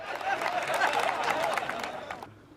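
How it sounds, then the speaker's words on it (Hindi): Audience applause at a Hindi kavi sammelan poetry recital, a dense broadband wash of many hands clapping at steady loudness for about two seconds before stopping abruptly. "ये उन्हीं लोगों ने ताली बजाई है जो मेरी तरह है"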